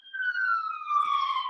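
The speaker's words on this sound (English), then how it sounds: "I think it's an ambulance." An ambulance siren passes outside a Starbucks, one long steady wailing tone that slowly drops in pitch, fairly loud and clear with no talking over it.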